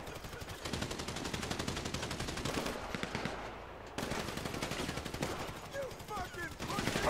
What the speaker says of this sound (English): We shoot our way out of here.